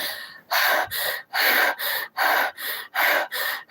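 A person imitates breathless panting, eight sharp, loud gasping breaths in a steady rhythm, close and alone without other talk, as after climbing somewhere very high.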